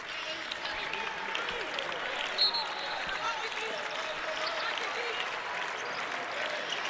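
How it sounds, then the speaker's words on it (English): Fans at an NC State vs. Syracuse women's college basketball game applaud and clap steadily as a broad, sustained wash of crowd noise, with a commentator talking over it. "do you feel all the fans standing and clapping?"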